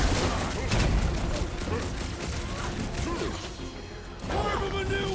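Gunfire in the Marvel Guardians of the Galaxy game, dense bursts of shots and impacts over a busy battle mix, with voices talking through it.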